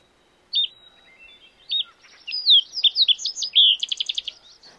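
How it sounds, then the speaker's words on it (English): A sooty fox sparrow sings a bright, varied song of clear whistles and sweet slurred notes, ending in a quick buzzy trill, close and alone. "the graceful little beauty of the sooty fox sparrow"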